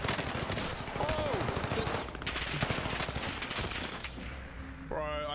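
Rapid bursts of gunfire in an online multiplayer shooter, dense and continuous over a busy game soundscape, with a rising tonal effect partway through and a chiming interface sound near the end; no speech.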